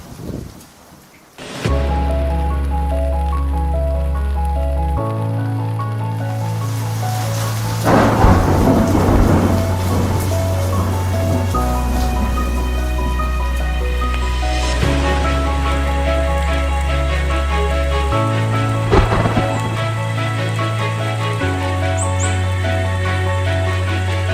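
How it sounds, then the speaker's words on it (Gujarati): Steady heavy rain from a downpour in Surat, with loud rolling thunder cracks, over a low droning musical tone that shifts in steps throughout. "અડતાલીસ કલાકોથી ધોધમાર જે વરસાદ વરસી રહ્યો છે"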